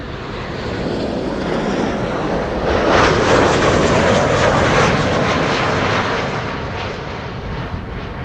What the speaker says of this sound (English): 737 arrival from Geneva, KLM flight 1930